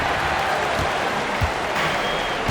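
Boston Celtics home crowd in NBA 2K25 during an Eastern Conference basketball game, a steady, dense roar of cheering and applause throughout with occasional low thumps from the court.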